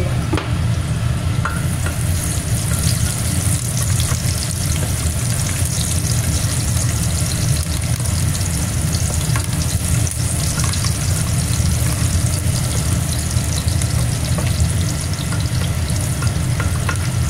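Crushed, unminced garlic cloves frying in a pan for a tomato pasta sauce, a steady dense sizzle with stirring that holds loud and unbroken throughout, with no talk.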